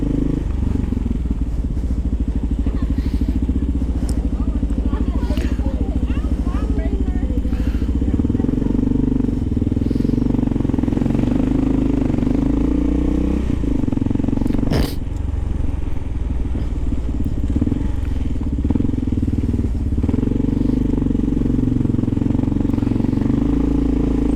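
Two motorcycles racing along an avenue, engines roaring continuously up close, revving and droning with wind rush, heard from a rider in an HJC RPHA 70 helmet, with occasional clatter and thumps.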